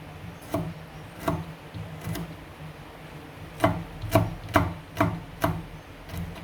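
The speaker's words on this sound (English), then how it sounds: "I'm chopping up the garlic here now, and just to throw a little in the pot" A knife chops garlic on a wooden board in a home kitchen: sharp, close, separate strikes, a few widely spaced at first, then a quicker run of five or six near the end.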